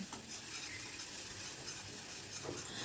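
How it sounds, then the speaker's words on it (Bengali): Spice paste for an egg and soybean curry stirred and fried in a pan, a steady close sizzle with scraping stir strokes throughout and a brief clink near the end. "অনবরত নাড়াচাড়া করতে হবে দেখো আস্তে আস্তে কিন্তু মশলাটা কষানো হয়ে যাচ্ছে"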